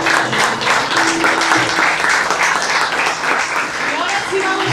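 A church congregation claps in strong, sustained applause. The clapping stays dense and fairly loud throughout, with voices mixed in beneath it.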